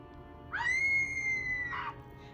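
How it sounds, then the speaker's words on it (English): A woman's single sustained high scream from the Vampira television show rises sharply and holds for about a second before cutting off, clear over faint background hiss. "she screams in the Vampira show. She screams. So the scream's coming up right here."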